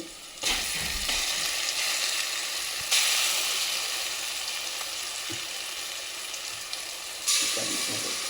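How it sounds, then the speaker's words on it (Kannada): Steady, loud sizzling of ground masala paste frying in a pan for Mangalore chicken sukka, close up, with a few sharper bursts of spatter and stirring along the way. "ಇವಾಗ ರುಬ್ಕೊಂಡಿರೋದನ್ನ ಫ್ರೈ ಮಾಡ್ತಾ ಇದ್ದೀನಿ."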